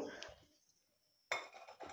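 A metal kadai (wok) set onto a stove lands with one sharp clanking knock and a brief rattle, close by, after a stretch of softer kitchen handling and a near-silent pause.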